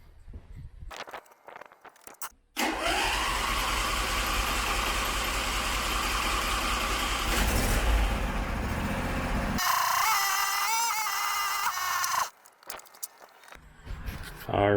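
Small engine of a John Deere 100 Series riding mower running after an oil change, a steady close drone that holds for several seconds before cutting off, with a brief rougher patch near the end.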